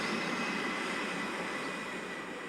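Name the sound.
airplane engine whirring overhead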